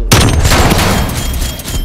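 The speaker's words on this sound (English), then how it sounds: "it's a 3-round burst" Video game pistol set to three-round burst, firing in loud, dense cracks that run together with a booming low end, close and continuous across the short stretch without clear gaps.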